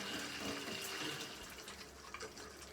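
Water rushes into a caravan's plumbing and hot water storage tank just after the mains tap is opened, a steady faint hiss and gurgle as air is pushed out of the system.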